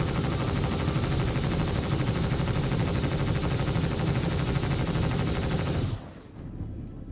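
Maxed-out weapons on a ship in Starlancer firing a dense, unbroken stream of rapid shots for about six seconds at steady loudness, then cutting off abruptly to a faint hum.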